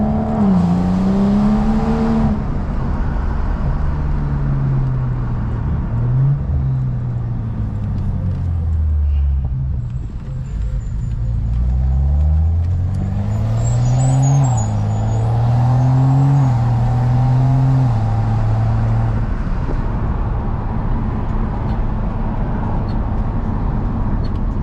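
BMW 535i fitted with a 3-inch single exit exhaust, heard close up through a U-turn: the engine note climbs and falls over several gear changes, drops to idle near the middle, then revs up again loudly.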